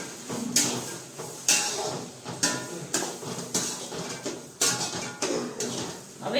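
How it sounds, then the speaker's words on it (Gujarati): Crushed peanut bhajiya is mixed into tomato masala in a pan, with sharp spoon-on-pan scrapes and clinks repeating every second or so, fairly close and clear, with no talking. "હવે બધું મિક્સ કરી દઈશું ફટાફટ"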